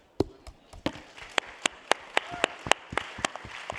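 Audience applause for the organizers at a conference panel session, sparse, scattered claps at first that settle into a steady, moderately loud round of clapping with no voices over it.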